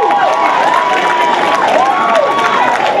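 Crowd at the Savannah State University pageant applauds and cheers loudly, with sustained clapping and rising whoops and shouts throughout, dense and close.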